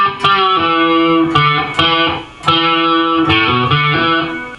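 Electric guitar plays a riff with hammer-ons, giving a series of sharply picked, lightly overdriven chords and notes in an uneven rock rhythm, clear and close with no talking.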